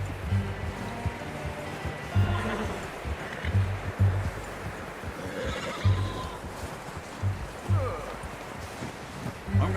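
Horse in the Western open-world game Red Dead Redemption 2 neighs and whinnies with a few clip-clopping hoof steps, set against steady low ambient rumble and intermittent game speech.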